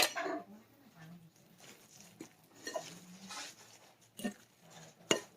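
A spoon scrapes and clinks against a dish while spinach artichoke dip topped with cheese is stirred, giving soft, irregular taps and scrapes with quiet gaps between strokes.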